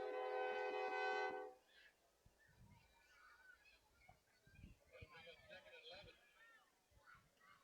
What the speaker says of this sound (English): That's got to be tough, having a train right here by your football field.